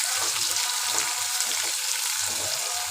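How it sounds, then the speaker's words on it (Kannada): Tomato frying in oil for a soybean sukka dish, a steady loud sizzle with soft rhythmic stirring scrapes throughout. "ಈಗ ಟೊಮೆಟೊ ಆಗಿ ಚೆನ್ನಾಗಿ ಸ್ವಲ್ಪ ಹೊತ್ತು ಫ್ರೈ ಮಾಡಿ."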